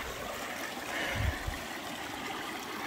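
Creek water running in the Utah backcountry during a mule deer hunt, a continuous trickling, gurgling flow that stays close and steady with one brief low thump near the middle.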